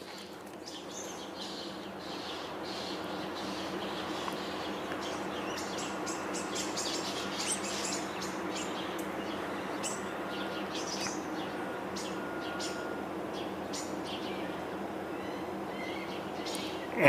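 A young hawk calls nearby outdoors, giving repeated sharp, high chirping cries scattered over a steady background hum of the surroundings, with no one speaking.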